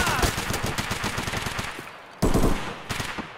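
Rapid automatic gunfire from Escape from Tarkov rattles in a fast steady burst, pauses, then a loud close shot lands, with a voice audible underneath.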